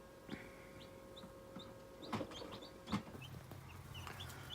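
Newly hatched chicks in a brooder give several faint, scattered chirps and peeps over a constant low background hum, with two slightly louder calls standing out briefly.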